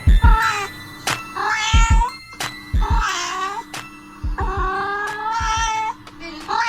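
A cat meows repeatedly, loud and close, five drawn-out cries with short pauses between them, alongside low thumping handling noises.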